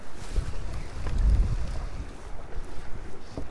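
Steady wind gusts on a rocky shore by the sea during fly fishing, a continuous low rumbling buffet that swells and eases, with faint waves underneath and no voices.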